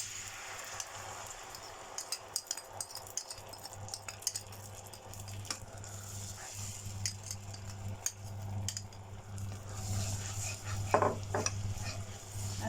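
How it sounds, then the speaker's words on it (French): A soy sauce and ketchup sauce for chicken wings is stirred in a pan, with quiet irregular scrapes and clicks of a utensil over a low steady hum, faint and close. "À ce niveau, on va bien mélanger."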